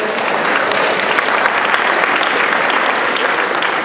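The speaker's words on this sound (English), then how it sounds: "You go ahead and clap." An audience claps loudly and steadily for a few seconds, a thick, uninterrupted patter of many hands with no voices over it.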